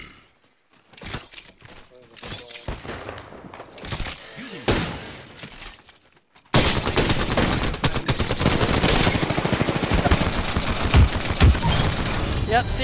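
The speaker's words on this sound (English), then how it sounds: "Opening fire on the enemy." Gunfire in Apex Legends, sporadic shots and impacts at first, then a loud, dense stretch of continuous firing and crashing effects, with a player talking alongside.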